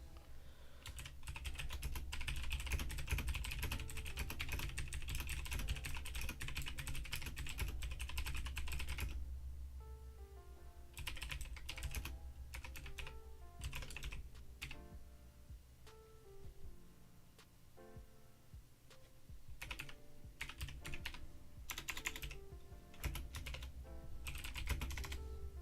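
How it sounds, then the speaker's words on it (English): Rapid typing on a computer keyboard, bursts of quick clicking keystrokes with short pauses between runs, close and clear over a low steady background hum. "I'm about to type real quick."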